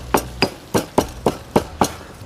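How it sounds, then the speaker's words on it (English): Seven sharp, evenly spaced pounding strikes as roasted spices, including whole cardamom pods, are crushed with a pestle in a mortar, each hit a bright knock with a quick decay, close and clear with no talk. "Pound them together."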